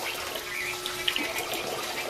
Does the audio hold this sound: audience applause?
no